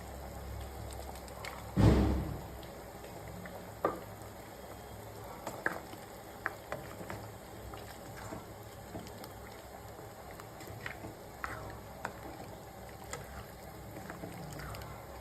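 A pan of mutton gravy simmering: a soft, steady bubbling and sizzle with scattered small pops, faint and close, after one brief louder clatter near the start.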